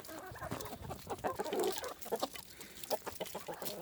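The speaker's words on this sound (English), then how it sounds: "Chicken stampede!" Chickens cluck in a busy, overlapping flock, close by and fairly loud as they rush toward their food in cold weather.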